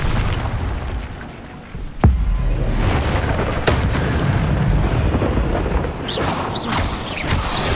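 A disarming spell cast in the video game Hogwarts Legacy: one sharp, loud burst like a blast at about two seconds, then a dense rumbling battle din with further whooshing impacts and crackles.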